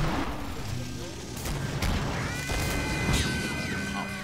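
Hand cannon fire in the video game Killing Floor, sharp gunshot cracks over a dense game soundscape, with someone talking throughout.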